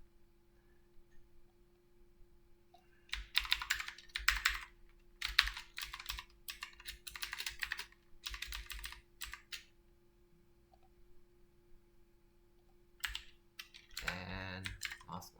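Typing on a computer keyboard comes in quick bursts of close key clicks separated by pauses, over a faint steady hum, with a short clatter near the end.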